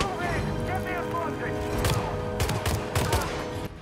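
Gunfire in Hitman 3: a few bursts of rapid shots cracking out in the middle and end of the stretch, over steady game background noise, with a voice talking early on.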